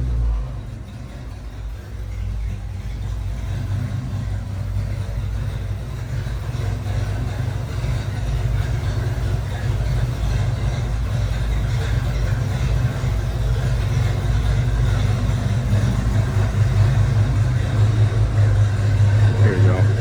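A 1982 Ford Bronco XLT idles steadily after a cold start, a close, loud, continuous low rumble that stays even for the whole stretch, with a faint voice or two now and then.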